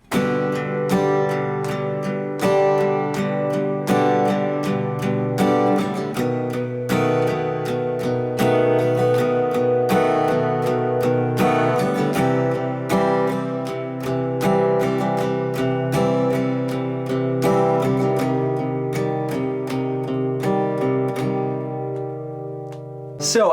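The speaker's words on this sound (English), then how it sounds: "Let's try it with open position chords." An acoustic guitar strums a song in open position chords, steady rhythmic strokes ringing close and clear throughout, ending on a fading chord.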